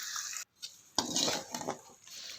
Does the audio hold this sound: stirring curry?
yes